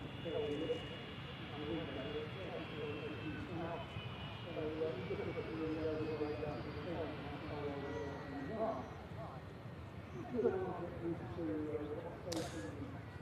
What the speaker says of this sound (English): Going in from Turin, this EasyJet A320.